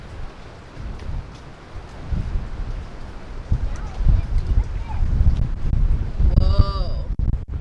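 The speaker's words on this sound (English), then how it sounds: "And so now windy." Strong gusty wind buffets the microphone over a flooded yard at high tide, roaring in heavy low rumbles that swell and fade, with voices and a short high call near the end.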